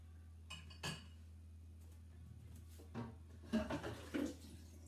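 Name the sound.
dishes being loaded into a dishwasher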